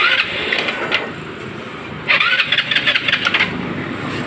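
A Motorstar Easyride 150 motorcycle, converted to battery operation, being started: a first cranking attempt, a brief pause, then the engine catching and running with uneven revving, close and loud.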